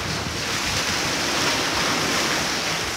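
Sea waves break and wash against a breakwater at Mangaratiba, a continuous loud roar of surf mixed with heavy wind buffeting, steady and close with no talking.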